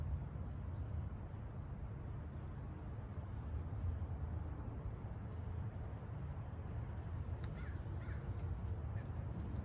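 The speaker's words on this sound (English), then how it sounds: "There's a flock of crows flying over." Crows caw faintly and intermittently from a flock flying overhead, distant above a steady broadband outdoor rumble, with no talking.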